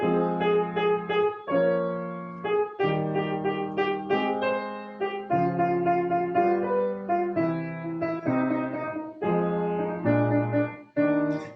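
A solo piano plays a tuneful melody with full chords in a steady, measured rhythm, close and clear, with short pauses between phrases.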